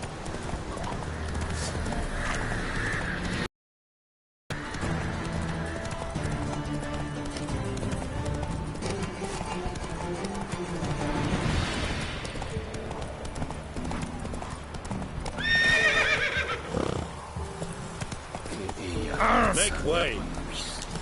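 Roach, a horse in The Witcher 3, gallops with steady rapid clip-clop hoofbeats throughout, overlaid by game music and ambient sound, with a short silent gap early on and a brief whinny toward the end.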